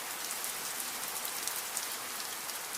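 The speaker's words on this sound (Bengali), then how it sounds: "হঠাৎ টানা বৃষ্টি শুরু হলো।" Steady rain falls in a cartoon, a dense, even hiss of drops on a surface with no other sounds over it.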